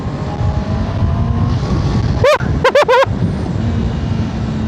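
A 2025 Honda CB650R motorcycle with E-Clutch rev-matches on downshifts, giving one sharp rising engine blip and then a quick triple burst of revs over steady wind and road rumble.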